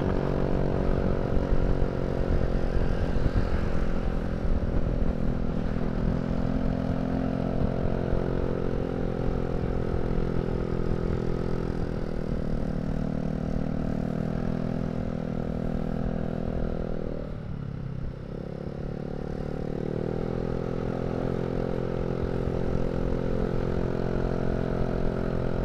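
Honda Scoopy and Vario 150 motorcycles climb a winding uphill road, their engines droning loud and steady throughout, with a brief dip in pitch partway through as if easing off for a bend.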